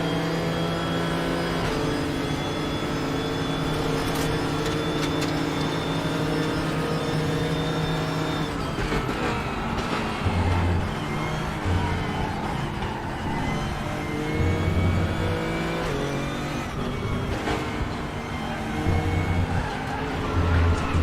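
A Nissan race car engine in the RaceRoom racing game drones steadily at high revs, loud and continuous, with pitch shifts and low thumps as gears change and other cars run alongside.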